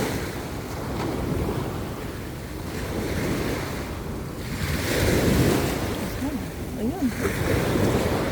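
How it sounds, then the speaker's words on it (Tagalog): Sea waves washing onto a shore with wind buffeting the microphone, a continuous surging roar that swells and recedes, with faint voices in the background. "Nagpaglaro ng dagat."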